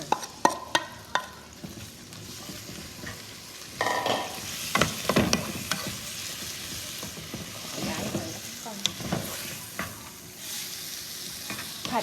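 Pork sizzles and fries in a hot pan with repeated scraping and stirring clatters throughout, steady and close.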